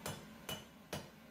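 A hand hammer strikes metal on a homemade anvil cut from railroad track while shaping the tines of a digging fork, three sharp ringing blows spaced about half a second apart, close and distinct with no talk.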